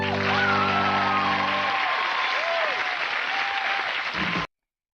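Audience cheering and applauding inside a film scene, a steady dense burst of clapping under a music bed that cuts off abruptly after about four and a half seconds.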